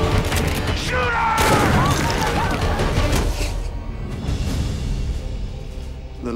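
Gunfire in a movie trailer: a dense, loud burst of overlapping shots and booms that fades into a lower rumbling tail, mixed with a voice and dramatic sound.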